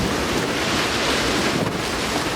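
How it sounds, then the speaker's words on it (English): Storm Dennis winds gust at around 40 to 50 miles an hour in the early morning, roaring steadily and loudly across the microphone with no voices. "winds are still gusting probably 40 to 50 miles an hour"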